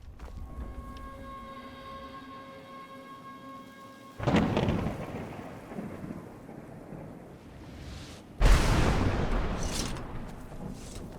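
Two heavy thunderclaps from lightning in Skyrim, each a sudden loud crack rolling into a long rumble, set over steady rain, with a faint tonal hum early on.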